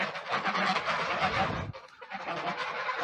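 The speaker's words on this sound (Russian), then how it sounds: "Сейчас я провожу гусей до речки" Geese honk and cackle together close by in a village yard at morning, a dense, continuous flock chatter that thins slightly toward the end.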